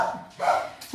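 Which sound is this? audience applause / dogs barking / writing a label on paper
dogs barking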